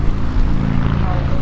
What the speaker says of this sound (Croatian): Neko piči s motorom